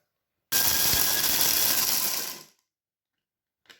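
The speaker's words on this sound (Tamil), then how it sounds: "பெருஞ்சீரம் வெள்ளைப்பூடும் இதை நாங்கள் அரைச்சி கொள்வோம்" A kitchen mixer grinding fennel and garlic whirs loudly for about two seconds, grinding coarsely with a gritty rattle, then spins down and stops, followed by a faint click.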